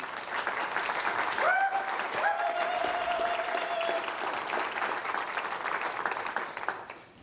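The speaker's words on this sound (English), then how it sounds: "let's give Mr. Bruchac a round of applause" Audience applause at a writers award ceremony, a sustained wash of clapping from a large crowd with faint whistle-like tones rising briefly over it early on.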